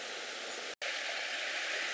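A calm forest brook after flooding, water flowing in a steady, even rush that stays constant and fairly close, with a momentary break in the middle.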